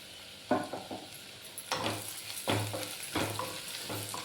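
Ingredients for vegetable masala rice fry in a pan, with soft sizzling and a series of quiet stirring scrapes and clinks of a spoon against the pan, close and fairly faint.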